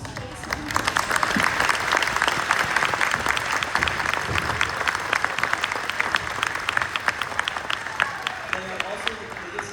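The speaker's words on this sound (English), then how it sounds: "So can we just give a round of applause for Mrs. Chase?" Sustained applause from a crowd, steady clapping that fills the whole stretch with dense, even patter.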